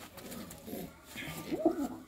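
A blue-footed pigeon coos softly nearby, a few low throaty rolling notes near the end, with faint voices and quiet background murmur around it.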